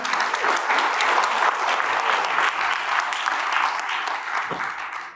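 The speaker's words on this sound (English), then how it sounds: "Give them a round of applause." An audience at a panel discussion on climate finance claps to welcome the panelists, a full, sustained round of applause that slowly tapers off at the end.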